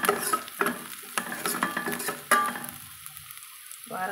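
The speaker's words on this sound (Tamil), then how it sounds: "நல்லா ஓரளவுக்கு வெந்து பொன்னிறமாக வர வரைக்கும் இந்த வதக்கி கொடுக்கலாங்க." Onions with curry leaves sautéing in a pan for road-side style tomato sambar, loud sizzling and frying with repeated spatula scrapes and clanks, then a brief quiet stretch before stirring resumes.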